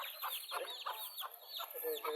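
A domestic desi hen, mother of eleven chicks, clucks in quick repeated soft calls, with high chick peeps running continuously over them, close by.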